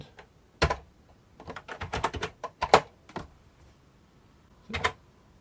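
Keys clack on a C64 Maxi keyboard, a close, dry burst of irregular taps clustered in the middle, then a pause and a final pair of strokes.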